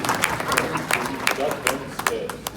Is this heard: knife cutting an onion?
no